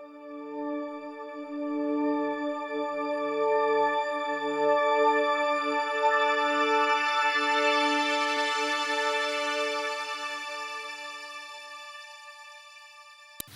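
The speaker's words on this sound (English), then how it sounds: "This is basically a reverb" A held synth chord washed in shimmering reverb and echoes, brightening in the middle and then slowly fading into a long airy tail.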